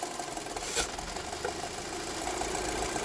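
A VW Eos engine idles after a restart, a steady low, even hum with a slight knock-like vibration, heard alone and fairly close with one brief sharp tick early on.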